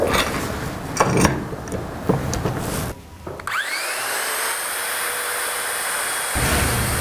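Loud, close whine of a circular saw spinning up and cutting sheet goods along a clamped guide, holding a steady high-pitched cut for several seconds after some handling noise.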